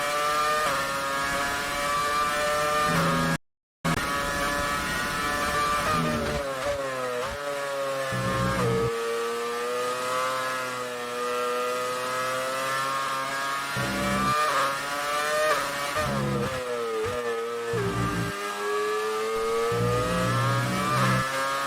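A Formula 1 car engine roars in the F1 2019 racing game at the Belgian Grand Prix, a loud continuous high-pitched whine rising and falling with gear shifts, with one brief dropout near the start.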